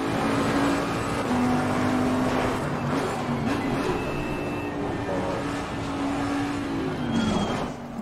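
A front-engined Bentley GT3 race car in Assetto Corsa Competizione revs and shifts through gears, its engine note rising and dropping continuously and loud, with someone talking over it.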